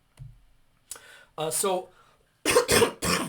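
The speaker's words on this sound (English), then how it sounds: "Sorry about my cough." A few harsh coughs close to the microphone, separated by short pauses, with some vocal sounds mixed in.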